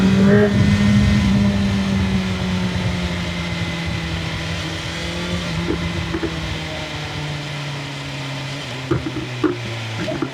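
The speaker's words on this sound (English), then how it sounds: "I'm banging my exhaust for the cars, open the road" BMW S1000XR motorcycle engine and exhaust heard from the rider's seat on an open road, a steady loud drone with pitch shifting as revs rise and fall, under strong wind rush, with a few sharp pops near the end.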